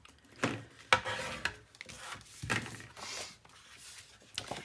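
Heavy cardstock for a 9 x 9 mini album being folded over a half-inch score line, with several short, close scraping and creasing rubs in quick bursts and no talking.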